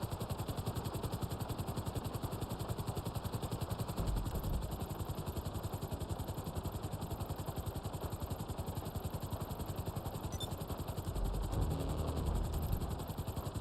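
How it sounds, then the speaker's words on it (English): Helicopter flying in GTA Online, a steady rapid rotor thump and turbine whine that holds continuously and loudly throughout, swelling slightly near the middle and end. "I'm in a helicopter."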